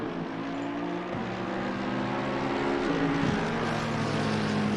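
GT3 race cars in Assetto Corsa Competizione roar past in a steady, loud engine drone, with pitch dips and shifts as they brake hard into a corner, continuous throughout.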